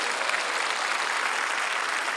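A church congregation at a peace and unification prayer rally claps together, a steady, dense wash of applause from a large crowd with no pauses.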